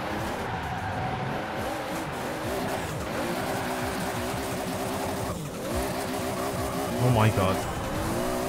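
A 2JZ-engined Hot Wheels car in Forza Horizon 4 roars at high revs, then its tires squeal briefly as it spins out, while someone talks and exclaims over the engine.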